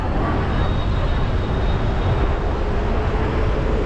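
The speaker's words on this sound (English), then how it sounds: "Taxis, lots of taxis coming in." Steady, loud street traffic on a busy avenue in Macau near the Grand Lisboa Casino, with taxis and other vehicles rumbling past continuously and close by for the whole stretch, no clear talking.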